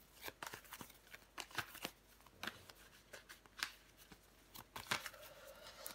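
Tarot cards being flipped over and laid down one after another, a quiet series of close, crisp papery snaps and slides in an irregular rhythm.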